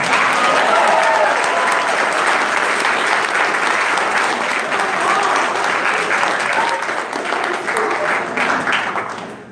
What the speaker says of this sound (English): You guys can give her a round of applause.